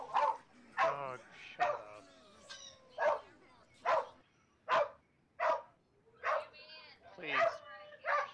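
Dogs barking indoors during a livestream, a series of roughly a dozen short, separate barks and yips at a steady pace, fairly near and moderately loud, with a person talking around them.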